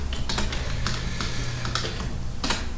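Keys clatter on a computer keyboard as a Shift, Ctrl and V shortcut is pressed, giving a quick run of close, crisp clicks with short gaps over a steady room hiss.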